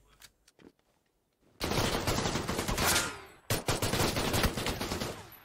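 Sustained bursts of automatic gunfire in a shooter video game, loud and close, starting abruptly after a quiet moment with scattered clicks, pausing briefly, then firing again in rapid rattling volleys.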